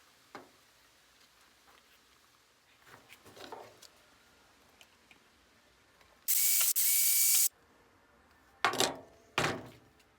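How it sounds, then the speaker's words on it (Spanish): An Aigostar wifi security camera is screwed to its cover, with small scattered clicks and ratcheting from the screwdriver, then a longer loud mechanical burst and a few sharp knocks close by. "Introducimos los cables y atornillamos la cámara a la tapa."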